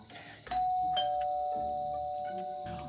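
A doorbell rings at a neighbour's house, one bright chime followed by a second tone that hangs and slowly fades. It sounds fairly soft and slightly distant, with no voices.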